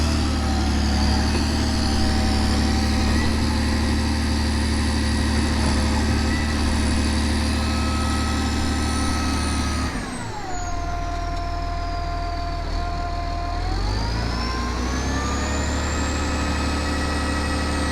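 A motor grader's heavy diesel engine runs steadily and loud throughout, its pitch dropping and the tone shifting midway as the engine is tested after a repair, with a high whine fading and returning.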